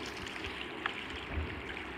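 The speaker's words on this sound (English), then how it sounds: "I hear water." Soft, steady flowing water in Minecraft, a low continuous trickle and wash that stays fairly quiet throughout with no talking over it.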